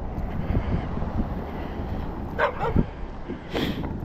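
Several dogs bark outdoors along a roadside walk in Maine, a few short yips and bow-wows rising over steady wind and traffic rumble, moderately near.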